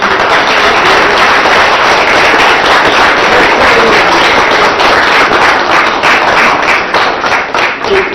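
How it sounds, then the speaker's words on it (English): An audience at an executive council meeting applauds a new member, a dense, loud wash of clapping that holds steady before thinning out at the end. "Paige, let's give her a round of applause."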